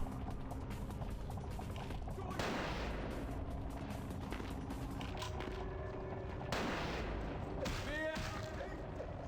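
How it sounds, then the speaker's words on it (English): Bursts of gunfire in the Vampire: The Masquerade – Bloodlines video game, several loud shots ringing out amid steady game noise and combat sounds. "I can't hit a single freaking person with a gun."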